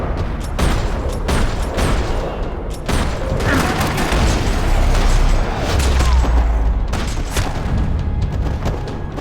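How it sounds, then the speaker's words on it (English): Gunfire rattles across a parking lot in Max Payne 3, a dense, loud fusillade of overlapping shots and booming impacts that runs without a break, with heavy low rumbles swelling midway through. "Another parking lot rattling with gunfire."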